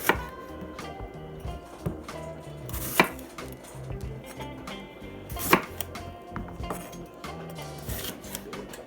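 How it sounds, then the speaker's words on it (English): A knife chops red bell pepper into strips on a cutting board, giving irregular close knocks and scraping cuts with a few sharper louder strikes, all under soft background sound and without talking. "Get rid of the seeds. And cut those in some strips."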